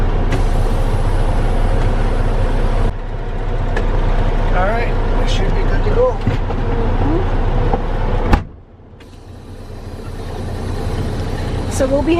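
Air brakes set on a trailer rig hitched to an empty trailer during a Wisconsin cranberry harvest: steady loud engine and air noise, then a sharp burst of hiss that cuts off abruptly, leaving a quieter idle.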